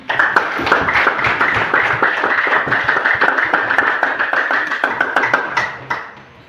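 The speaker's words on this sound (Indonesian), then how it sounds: "Tepuk tangan." Classroom clapping from a group of students during a guidance lesson, brisk rhythmic hand claps close by that keep an even pace for about six seconds, then stop.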